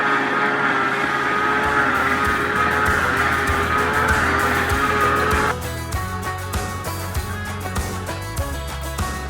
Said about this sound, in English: I just push a little button up here and the floor cleaner comes out, and then you can just turn it on